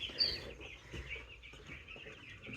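Chickens on a farm give soft, repeated clucks and small chirps close by, a busy, low-level flock murmur with no talking.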